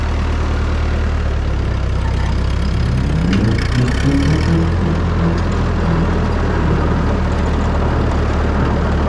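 A Ford 9N tractor runs with its mower engaged, making a loud, close, steady low engine drone whose pitch swells briefly as the throttle is raised, then settles into an even rumble.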